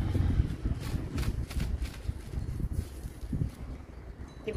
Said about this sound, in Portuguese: Tem bastante vento, um pouquinho, atrapalhando um pouquinho, mas dá.